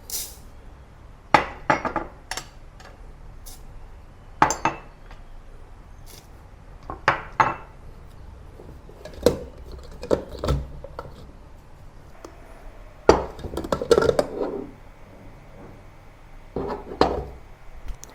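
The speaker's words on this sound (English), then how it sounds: "To make the curry paste, first I'll start by crushing the whole spices" Whole spices being crushed for a Thai curry paste, sharp irregular pounding knocks in a mortar, spaced out over quiet gaps with occasional rapid clusters, close and fairly loud.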